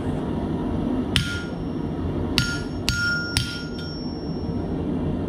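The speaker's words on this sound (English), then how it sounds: "I'm going to use this slightly curved chisel to make the veins in the leaf." A curved chisel struck with a hammer into hot metal to forge the veins of a leaf, giving five sharp, ringing metallic blows at irregular intervals over a steady low background hum.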